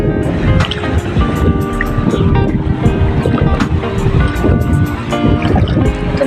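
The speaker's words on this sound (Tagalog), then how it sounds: "Malakas yung alon." Strong ocean waves at the foot of a lighthouse: loud, continuous churning surf mixed with rushing wind buffeting the microphone.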